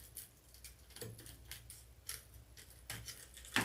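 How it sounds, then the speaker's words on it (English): Scissors snip through the small ribbon on a Hobby Lobby St. Patrick's Day wreath decoration, a few close, crisp metallic cuts spaced irregularly over a few seconds, quiet and without talk. "I'm going to cut the little ribbon part off."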